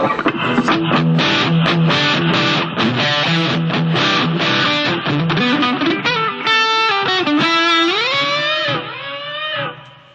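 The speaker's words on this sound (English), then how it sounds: "You know, the kind of distortion thing." A heavily distorted electric guitar through a Blackstar ID Core 10 v2 modeling amp plays loud, fuzzy chords and then bending, sustained notes that fade out at the end.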